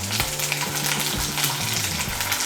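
Ginger paste and green chilli paste fry in hot oil with a dense, close crackling sizzle, while a utensil stirs and scrapes the pan throughout.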